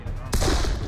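A musket volley in the Darkest of Days video game: a sudden loud burst of overlapping gunfire that erupts a third of the way in and rumbles on to the end.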